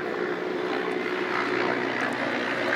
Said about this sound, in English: It's a bloody helicopter.